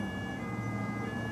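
A siren sounds from a car speeding past a café at the foot of the Casbah, steady and fairly faint, with a constant tonal wail over low street rumble. No one speaks.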